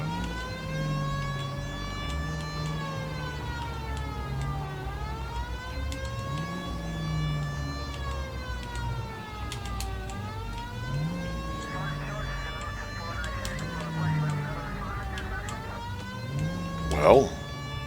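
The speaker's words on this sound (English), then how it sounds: "Hit the siren." A wailing police car siren in the L.A. Noire video game sweeps up and down continuously over engine rumble, with a brief sharp burst near the end.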